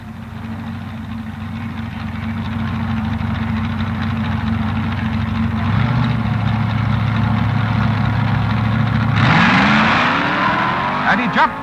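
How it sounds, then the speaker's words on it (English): A Ford-powered B-Fuel dragster and a Corvette at the 1967 NHRA US Nationals, with a steady loud engine drone that rises into a louder, sweeping roar near the end as the cars launch. "Jim Wofield, Pontiac, Michigan, in a Ford-powered B-Fuel dragster against Dave Strickler, York, Pennsylvania, in a Corvette."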